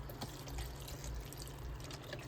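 Water poured into a soup pot of heart of palm and cabbage soup, a continuous close splashing stream that stays fairly even and quiet throughout.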